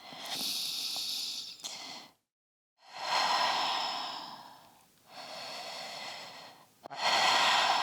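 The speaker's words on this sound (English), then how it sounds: "So I'm going to come down to my forearms, tuck my chin, and breathe here for 3 full breaths." Slow, deep breaths taken in a forward-leaning inversion on the forearms with chin tucked: three long airy inhale-exhale cycles, close and breathy, separated by brief pauses, with no talk.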